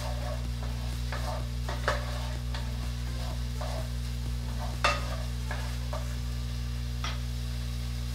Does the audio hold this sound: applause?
no